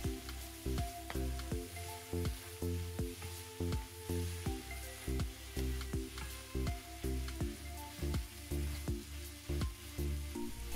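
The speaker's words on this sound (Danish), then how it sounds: "Rør det hele godt sammen og steg videre" Noodles and sauce stir-fried in a pan for pad see ew, a busy crackling sizzle broken by rhythmic scraping and tossing strokes, close and continuous with no voices.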